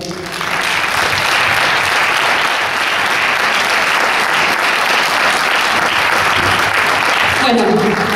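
Sustained audience applause for a singer at a live concert, loud dense clapping filling about eight seconds before easing at the end, with a voice coming in over the last moments.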